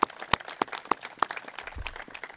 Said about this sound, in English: I noticed you can applaud for that, too.